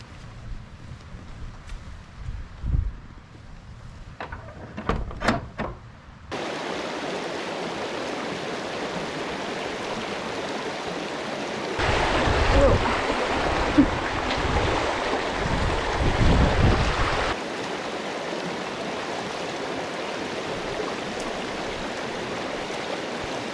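Someone wading on foot across a river on the Cape Wrath Trail in the Scottish Highlands: a few splashy steps at first, then a loud, steady rush of moving water with wind buffeting the microphone, swelling midway.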